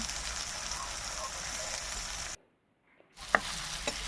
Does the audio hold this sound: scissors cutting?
no